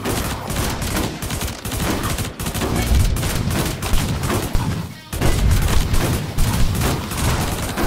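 Dense, continuous gunfire fills a Zombie Survivors game session, rapid shots stacking into a loud, unbroken barrage with brief dips, a voice faintly under it.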